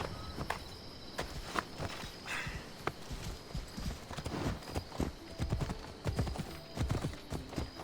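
Horse hooves clip-clop at a riding pace in the video game Assassin's Creed Odyssey, a steady rhythmic run of close hoofbeats over a bed of outdoor ambience with faint insect chirring.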